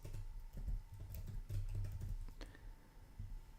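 Close, irregular tapping on an English-layout computer keyboard, bursts of soft clicks and keystrokes in uneven rhythm with brief pauses between runs.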